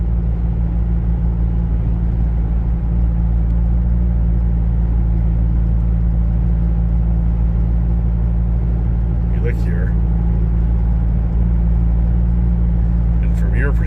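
A Chevy Colorado ZR2 Bison fitted with an MBRP cat-back exhaust cruises on the road, its engine a steady, low, continuous drone beneath someone talking the whole time.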